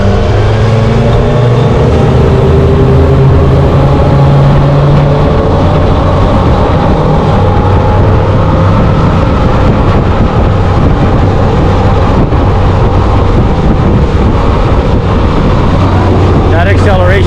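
A hydrofoil boat with 200 horsepower engines accelerates across very choppy water, its loud, steady engine drone mixed with rushing water and wind buffeting the microphone throughout, with voices talking over it.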